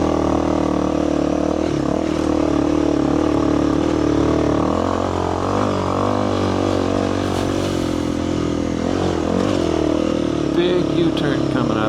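A motorcycle rides along an off-camber, sideways-sloping mountain road, its engine droning steadily and close throughout with slight shifts in pitch, while a rider talks over the constant engine and wind noise.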